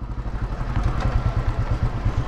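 Royal Enfield Classic 350 thumping along at speed, its single-cylinder beat loud and rhythmic throughout with a steady pulsing exhaust note and light wind rush.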